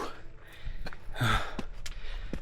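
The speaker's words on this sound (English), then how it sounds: "You can hear me panting." Climber panting after scaling bare rock to a cliff church in Ethiopia, with several sharp breathy gasps and exhales close to the microphone, spaced unevenly amid light outdoor background.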